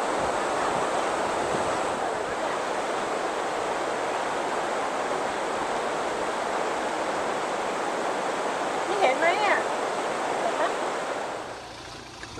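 Broad steady roar of a waterfall near the Four Thousand Islands in southern Laos, continuous and fairly close, with brief faint chirps or voices late on before the rushing fades slightly at the end.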